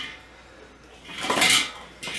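A metal grill grate on a 22.5-inch Weber kettle grill being set onto its clips gives a short bright metallic clank, then a second lighter clink, close by and otherwise quiet.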